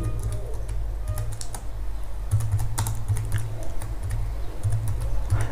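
Quick bursts of keystrokes on a computer keyboard as search keywords are typed, light clicking that starts and pauses in short irregular runs, close and fairly quiet.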